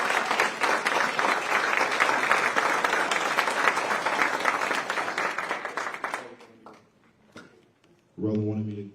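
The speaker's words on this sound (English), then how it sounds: "Give him a St. Louis round of applause." An audience at a St. Louis book tour event breaks into loud, sustained applause that gradually fades out, followed by a brief pause before a speaker's voice comes in.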